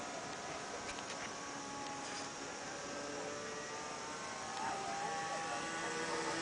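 A laser-type radio-controlled model airplane on its first flight, heard as a steady high engine whine drifting at some distance over continuous outdoor background noise, growing slightly louder near the end.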